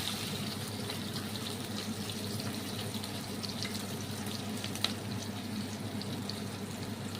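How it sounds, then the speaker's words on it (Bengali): Two medium onions, finely chopped, fry in oil in a kadai after boiled eggs were fried, giving a continuous close, even sizzle with faint crackles and no talking. "এবার আমি কড়াইতে মাঝারি সাইজের 2টো পেঁয়াজ কুচি করে নিয়েছি, এটা দিয়ে দেবো।"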